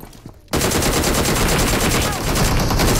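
Sustained automatic gunfire in the PUBG Mobile shooter game, a loud, dense, unbroken stream of rapid shots that cuts in abruptly after a quiet moment and keeps going to the end, close and overwhelming.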